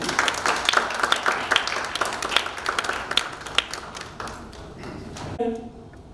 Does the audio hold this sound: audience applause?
yes